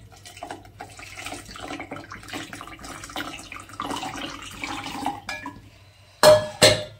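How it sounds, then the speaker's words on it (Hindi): A cooking pot washed under a running kitchen tap, with trickling water and soft clanks of metal on metal, ending in two louder bursts of gushing water close by. "और पतीला लिया मैंने धोकर"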